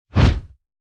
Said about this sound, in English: This is the swing sounds of fists and legs.